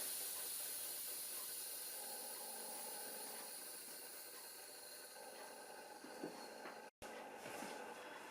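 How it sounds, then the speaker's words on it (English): Steam hisses steadily through the vent of a pressure canner holding jars of chicken and vegetable broth, a loud continuous rushing hiss that breaks off for an instant near the end and then resumes. "you can hear all the pressure. It's still, now it comes through the vent."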